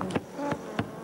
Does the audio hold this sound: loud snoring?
no